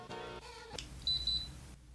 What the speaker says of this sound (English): You hear that? A little beep beep.